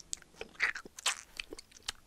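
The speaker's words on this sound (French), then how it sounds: "en retira une crotte de nez encore plus énorme et la mâchouilla avec délectation" Wet chewing and crunching bites, a sound effect for a character gleefully munching, come as a quiet irregular series of short close mouth noises with no talking.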